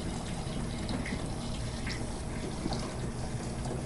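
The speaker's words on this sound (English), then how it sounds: "we just poured in what we had boiled with the brown sugar" Liquid pours steadily into a jug, a low continuous splashing rush of boiled cider mixed with brown sugar, quiet and unbroken with no talk.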